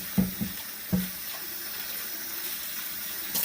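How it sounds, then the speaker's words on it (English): Tap water pours into a container, a steady splashing stream with a few knocks and clunks near the start, close and moderately quiet, with no voices. "Putting water in."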